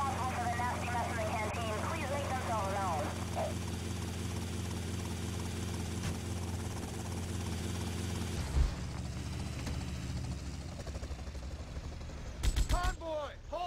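A helicopter flies in the video game Grand Theft Auto: Vice City, its rotor and engine making a steady, loud drone throughout. Voices talk over the first few seconds, and sharp bangs cut through around the middle and near the end.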